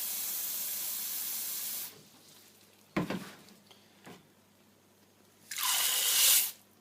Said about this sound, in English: So take it over to the tap. We fill the bowl up